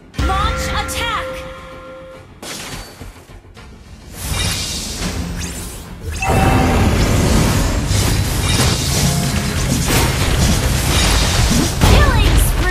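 Loud bursts, whooshes and explosive booms from a turret being destroyed in a video game match, layered with game announcer voice lines and busy effects that build into a dense, continuous roar.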